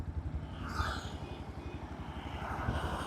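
A Yamaha 150cc sports motorcycle engine thrums steadily at a fairly low volume, a continuous, even rumble with no voices over it.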